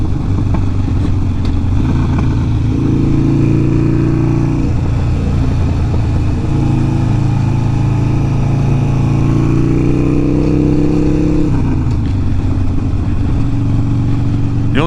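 A Harley-Davidson Sportster motorcycle engine rumbles steadily while riding along a short stretch of road, loud and close throughout, with the pitch rising and easing as the rider changes speed.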